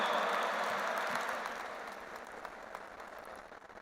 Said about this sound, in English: Welcome with a big round of applause, Honorable D.